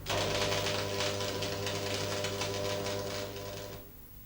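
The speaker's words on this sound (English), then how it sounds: "you can hold the pieces in place while you tack weld them." Stick electrode tack welding on a steel T-joint, a steady dense crackle and sizzle that holds for about four seconds and then stops abruptly, close and fairly loud with no voices.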